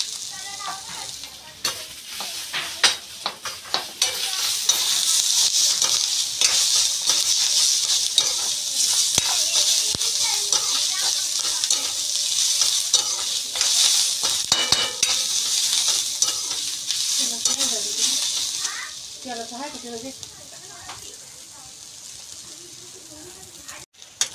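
Onion roasts in a pan over a wood-fired stove for village-style chicken rassa, with a loud hissing sizzle and stirring scrapes throughout. A voice talks briefly near the end.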